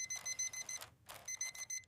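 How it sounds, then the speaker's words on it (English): An alarm clock ringing in quick, bright repeated beeps, pausing briefly before resuming, fairly close and alone. "Why did I set an alarm?"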